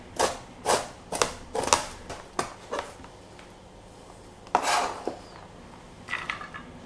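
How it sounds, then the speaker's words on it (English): A knife slices a carrot finely on a board, giving a run of close, sharp chopping taps in uneven clusters with short pauses between them. "Now slice the carrot finely."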